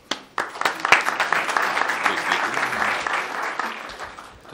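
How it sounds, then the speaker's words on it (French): An audience at an egg-incubation workshop on the poultry industry applauds. A few scattered claps quickly swell into steady, fairly close clapping that holds for several seconds and then thins slightly at the end. "Je vous invite à applaudir"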